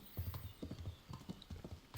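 Horse hooves clip-clop at a steady trotting rhythm in the medieval role-playing game Kingdom Come: Deliverance, a string of soft, close hoofbeats over a faint background hum with no talking.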